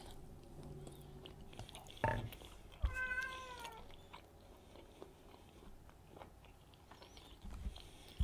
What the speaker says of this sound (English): I don't know what he's meowing at.